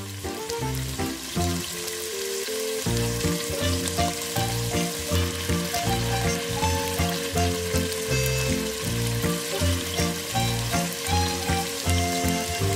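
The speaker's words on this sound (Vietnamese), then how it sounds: "Sau khi dầu đã sôi nóng rồi thì bắt đầu mình bỏ nuôi vào để chiên." Macaroni fries in hot oil with a constant loud sizzle and crackle, the bubbling steady and close throughout while background music plays along.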